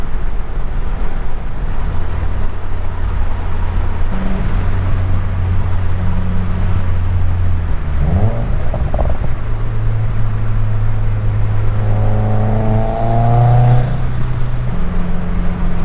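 A Subaru WRX climbs a mountain road from inside the cabin, its engine droning steadily, then dipping and rising through gear changes around the middle and building revs again near the end, loud and close.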